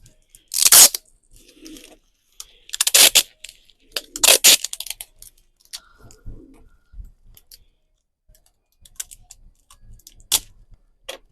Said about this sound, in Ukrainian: Зараз скотчем пройдемося